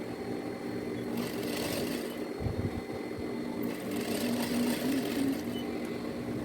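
An electric sewing machine stitches an edge seam along a blouse in two short, buzzing bursts at close range, with a quieter, soft hum and faint handling noise between runs.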